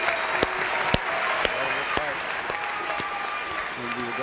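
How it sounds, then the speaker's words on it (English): Crowd applause after a no-gi grappling match that ended in a draw, a steady roar of clapping with regular sharp rhythmic beats cutting through and voices faintly mixed underneath. "Let's have a round of applause for these two incredible warriors."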